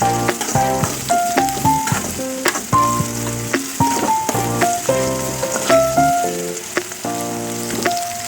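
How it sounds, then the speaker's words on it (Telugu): Onion fries in a pan with salt, a continuous hiss and crackle punctuated by scraping stirs, with background music playing steadily underneath. "ఇది మంచిగా ఫ్రై చేసుకోవాలి"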